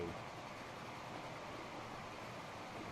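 A steam locomotive hauling a train in a Transport Fever race rumbles steadily throughout, a continuous faint rolling drone with no distinct beats.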